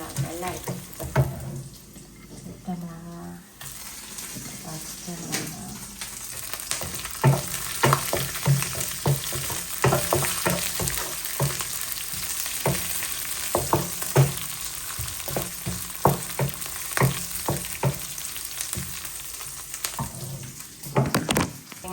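Dried red chilies frying in hot oil for a Tamil-style fish curry, a steady sizzling crackle with repeated utensil knocks and stirring scrapes throughout, close and fairly loud.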